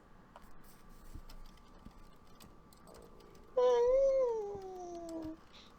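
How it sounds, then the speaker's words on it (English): A pet cat yowls indoors in the background, one drawn-out wavering cry lasting about two seconds, sliding slightly down in pitch, after quiet room noise and soft keyboard clicks. "Also ignore my cat yowling in the background."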